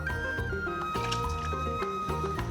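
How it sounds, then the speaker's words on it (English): Potatoes go into a pot of boiling water, giving soft, wet squishing splashes and bubbling, faint and steady beneath a tonal background. "I'm going to cheat it and put it into boiling water."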